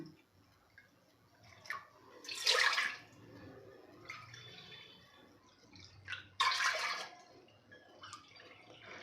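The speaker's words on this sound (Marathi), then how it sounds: "त्यामध्ये घालायचं आहे आपल्याला तीन वाटी पाणी" Water poured from a bowl into a pressure cooker heating on the stove for jaggery broken-wheat porridge, heard as two short splashing pours a few seconds apart over a quiet kitchen background.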